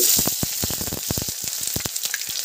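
Cumin seeds, a bay leaf and chopped onion sizzle and crackle in hot mustard oil, with sharp popping bursts over a steady frying hiss, close and fairly loud.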